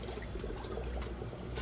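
Fingers swish powdered fish food through shrimp aquarium water, making a steady, close, wet rushing wash with no pauses.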